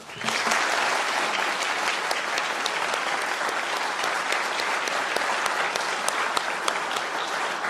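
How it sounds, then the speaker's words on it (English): A school auditorium audience gives sustained applause for students seated on stage at a National Junior Honor Society induction, a dense, steady wash of many hands clapping at close range that holds at an even loudness from start to finish, with no talk over it. "one final round of applause for the students sitting on this stage"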